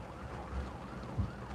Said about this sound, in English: 2 ambulances.